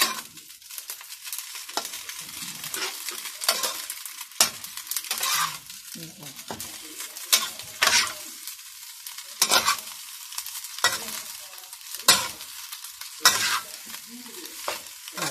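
Pork being fried and stirred in a pan with egg already added: steady sizzling with repeated sharp scrapes and clatters of the utensil against the pan at a brisk, irregular rhythm, close up and without talk.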